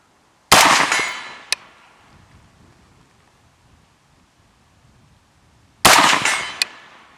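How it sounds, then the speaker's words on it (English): Two sharp rifle shots during a range test of a Primary Arms SLx 1-6x24 scope, each a loud crack with a decaying tail, separated by about five seconds of near silence. "We'll take a couple of shots here."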